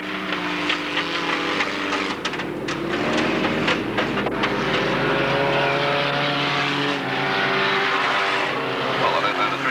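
Stock car racing at Alwalton Raceway in 1983, with engines roaring round the track near the final lap, a loud continuous rumble and drone throughout with engine notes rising and passing.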